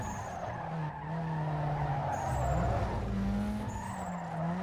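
A front-wheel-drive car slides with its back end swinging around in Need for Speed Underground 2, tires squealing in long sustained skids over a loud engine drone.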